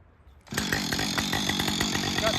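A Husqvarna 562 chainsaw roars to life after a quiet start and runs steadily at high revs during tree felling near a house, loud and close with a continuous buzzing drone.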